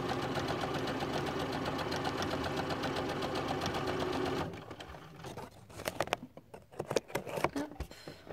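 Sewing machine stitching pink jersey fabric with a fabric band pulled along, running steadily and loudly at first, then stopping, followed by scattered clicks and handling noises.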